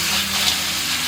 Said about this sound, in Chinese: 接着我们直接下入螃蟹哈，给它中大火煎